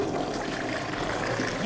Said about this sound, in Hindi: ये टॉयलेट फ्लश की आवाज है